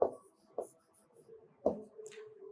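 Chalk or marker strokes scratching across a board during a grammar lesson, a few short bursts of writing with brief pauses between them, close and fairly quiet, with no talking.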